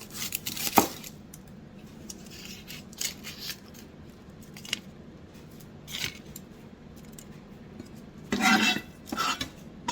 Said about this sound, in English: we're going to go ahead and start cutting our onion